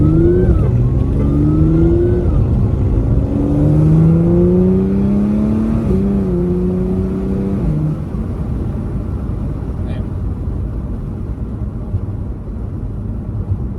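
A tuned Audi S5 B8.5 at stage 2+ accelerates hard, heard from inside the car. Its engine note climbs through several rising pulls separated by quick gear changes, then drops to a steady, loud rumble.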